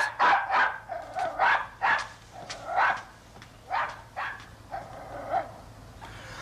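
A dog barks repeatedly in short, loud bursts, a dozen or so yaps and woofs spaced irregularly, with a few higher whimpering yips mixed in, close by over a quiet background.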